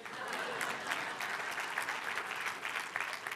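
A congregation in a French-language church service bursts into brisk, dense applause during a sermon, an even burst of many hands clapping close by for a few seconds.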